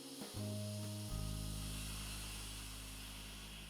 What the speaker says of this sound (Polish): zmniejszamy ciśnienie w tym garnku, przesuwając przycisk na zewnątrz czasie odparowywania zjeżdża przycisk na dół.